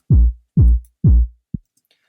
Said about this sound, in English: So I found this 8-bit kick.